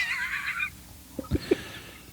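A horse neighs in a high, wavering whinny lasting under a second, followed by a few short low snorts or thumps, with no talking.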